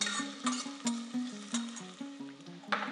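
Chopped onion sizzling in hot oil in a pot, a soft crackle broken by repeated scraping strokes of a utensil that come in a loose rhythm, close and fairly quiet, with no voices.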